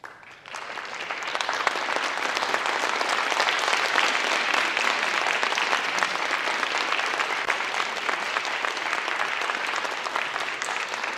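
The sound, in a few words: audience applause for a graduating student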